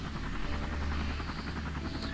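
A helicopter in the emergency-services video game Emergency 3 gives off a steady low rotor drone and buzzing hum, moderate and continuous across the short stretch, with no speech over it.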